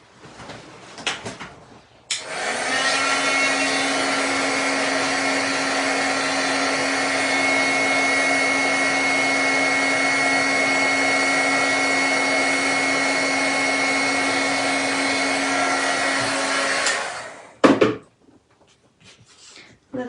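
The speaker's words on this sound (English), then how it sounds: "I am just going to heat emboss that." A heat gun blows a steady, loud whirring hiss for about fifteen seconds while heat embossing a stamped card, with brief handling noises before it starts and after it stops.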